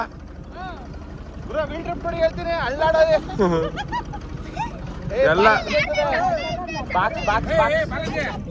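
A tractor engine chugs low and steady while the tractor is being driven, loud throughout beneath several people talking and laughing together.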